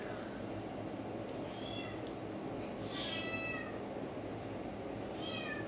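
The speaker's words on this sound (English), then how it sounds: "Go get the cat." A cat meows a few times, faint and short, over a steady low background hum.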